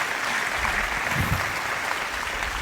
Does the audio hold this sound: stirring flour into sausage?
no